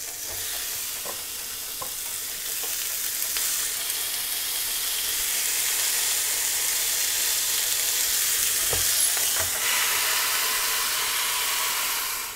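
Shrimp and bacon skewers searing in a countertop cooking appliance, giving a steady loud sizzle that persists throughout with a few faint clicks and scrapes, and no talking.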